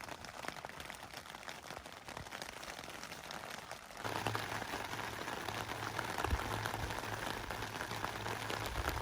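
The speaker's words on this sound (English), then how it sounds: "Right now we're enjoying some super peaceful rain." Soft, steady rain falls outside a camp set up overlanding style near Las Vegas, a faint continuous hiss that thickens slightly partway through, with no voices.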